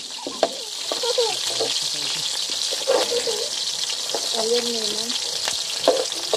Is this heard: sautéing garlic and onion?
yes